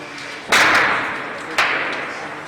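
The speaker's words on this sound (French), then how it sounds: "les premiers coups de feu retentissent et deviennent de plus en plus nourris" Two sharp gunshots crack out about a second apart amid street unrest, each loud and close with a decaying echo tail, over a background murmur.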